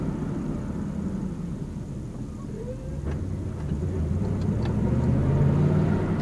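A manual-transmission car engine rumbles steadily with a low, continuous drone while being downshifted into third gear, the sound swelling slightly toward the end.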